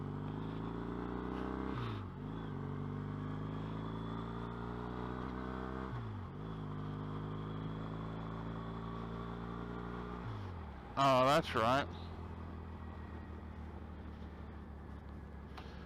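Riding a motorcycle through busy road traffic with trucks fitted with exhaust stacks, a steady engine drone with shifting tones and gear changes, one louder passing burst near the end, and a brief spoken remark.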